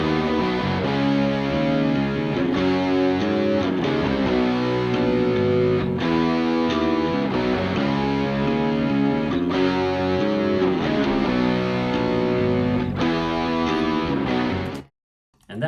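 Bass and distorted guitars play a dense, sustained rock chorus without drums, recreating a 1976 record's production; the full, loud band texture runs steadily until it cuts off abruptly near the end.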